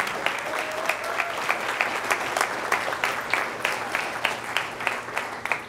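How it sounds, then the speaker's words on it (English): A crowd applauds steadily, a dense patter of many hands clapping at an even volume throughout. "Let's give them a round of applause."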